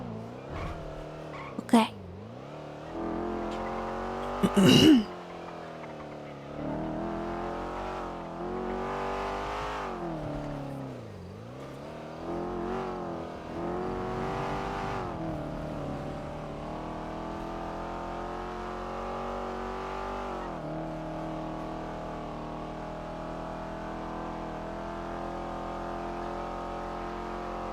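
Car engine driving in the NoPixel GTA RP game world, a steady motor drone with pitch rising and falling as it accelerates and slows, a couple of sharp bumps early on, under a voice speaking.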